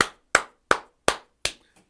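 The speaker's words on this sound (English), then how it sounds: "Now look at the audience clapping like they can't even clap like regular people." Claps from a debate recording ring out as five sharp, evenly spaced strikes about a third of a second apart, with a fainter sixth at the end, each crisp and separate rather than a blended crowd roar.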